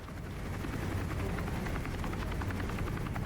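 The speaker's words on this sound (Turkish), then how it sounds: "Bu helikopteri buraya getirmeye çalışacağım şimdi." Loud, steady rotor thumping of a helicopter in Rainbow Six Siege, a dense continuous whir that holds close and constant throughout.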